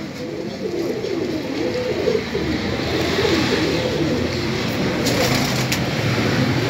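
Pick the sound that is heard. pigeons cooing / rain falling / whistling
pigeons cooing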